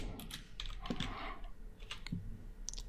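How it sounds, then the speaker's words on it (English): Light, irregular key clicks from typing on a computer keyboard, close and fairly soft, with short bursts and pauses and no talking. "So that's all I'm typing in for now."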